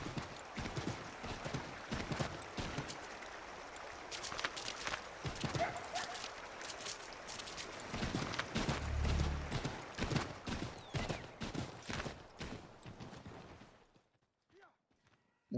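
Horse hooves clip-clop in Assassin's Creed 3 as a horse moves through a river, a fast continuous run of clattering hoofbeats for most of the stretch, with a deep thump midway before the sound cuts to near silence.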